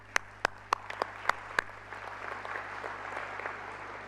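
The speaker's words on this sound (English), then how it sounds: "Give them once again a round of applause." A few separate claps ring out at first, then scattered, thin applause builds softly from an audience at a peace convention in Paraguay honoring former presidents, moderate in level and somewhat distant.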